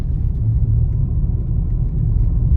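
A car driving over a broken, potholed road between Samba and Udhampur, heard from inside as a loud, steady low rumble and road roar without letup.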